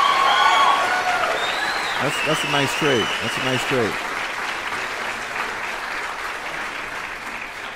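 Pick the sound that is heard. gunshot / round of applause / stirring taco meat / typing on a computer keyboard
round of applause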